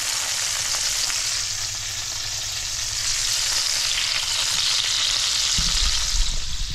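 Wahoo fish searing in oil in a pan, a steady loud sizzle and crackle that runs unbroken throughout, with a soft clunk near the end.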